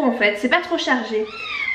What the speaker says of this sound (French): alors vous allez entendre le chat miauler hein